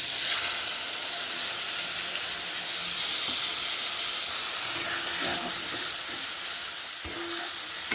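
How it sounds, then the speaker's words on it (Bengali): Spice paste of turmeric powder and a splash of water sizzles and fries steadily in a pan, a continuous bright hiss with faint stirring scrapes, close and alone without talk. "মশলাটা ভালো করে কষে নেব"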